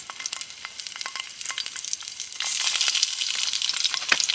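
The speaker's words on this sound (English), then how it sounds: "I'm just going to start with browning off the sausages." Toulouse sausages brown in a pan, with a steady high sizzle and crackle broken by frequent sharp pops and spits, growing louder and denser in the second half.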